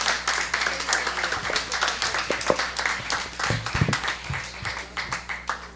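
Audience at a forum applauding as a certificate is presented, dense clapping that thins into scattered individual claps with uneven peaks toward the end.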